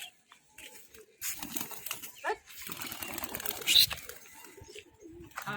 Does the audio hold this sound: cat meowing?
no